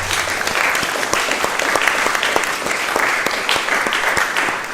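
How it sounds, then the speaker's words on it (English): An audience at the 100 Most Influential Young Leaders in Africa 2023 event in Accra gives loud, sustained applause, dense crowd clapping that holds steady from start to finish with no talk over it. "I really ask you humbly to give her a kind of applause"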